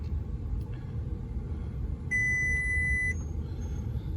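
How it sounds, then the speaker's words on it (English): Inside a 2008 Porsche Cayenne, a single steady electronic warning tone for an anti-lock brake system fault sounds for about a second over a constant low engine rumble. "we're going to go through the beeps where it's telling me that there's a problem with the anti-lock brake system"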